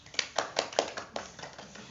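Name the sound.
audience clapping hands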